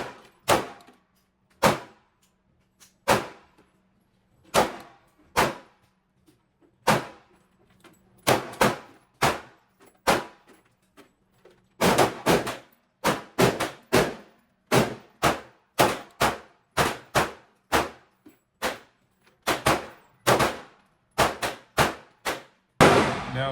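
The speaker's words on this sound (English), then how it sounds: "putting it on target, and taking one shot." Glock 45 pistol fired at an indoor shooting range, a long series of sharp, loud cracks, first spaced single shots and then quicker irregular strings, each with a brief room echo, no talking.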